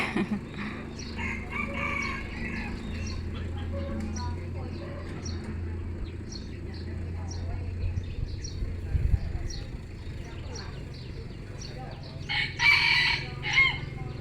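A rooster crows loudly nearby, with more crowing toward the end over steady background noise.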